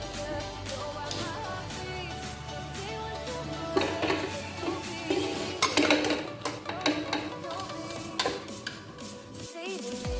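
Egg puffs are set onto a small plate inside a pressure cooker in a home kitchen. Light clinks and taps of metal and pastry sound at close range over a faint background hum.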